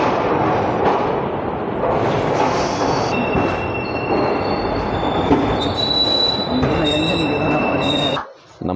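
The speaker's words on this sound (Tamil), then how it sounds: "இப்போ நம்ம ட்ரெயின் எக்மோர் ஸ்டேஷனுக்குள்ளே என்ட்ரு ஆகிட்டு இருக்கு" The Tiruchendur Express rolls into platform 5 at Chennai Egmore station with a loud, steady rumble, and high-pitched wheel squeals ring out over it for several seconds before it briefly quiets near the end.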